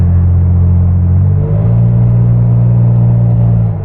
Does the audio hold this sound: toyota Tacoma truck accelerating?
yes